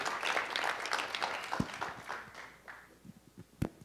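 Small audience clapping, a burst of applause that thins out into a few scattered claps and fades, with a sharp final knock near the end.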